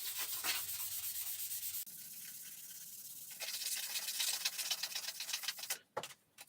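Steady abrasive sanding of a steel sword blade, a continuous gritty rubbing that shifts in pace partway through, close up, ending with a brief pause and resumption.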